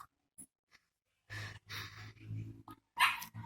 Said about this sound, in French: J'entends des voix ou j'entends un chien aboyer.